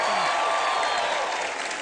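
A television comedy show's studio audience breaks into loud, steady applause with some crowd noise, sustained clapping that fades slightly toward the end.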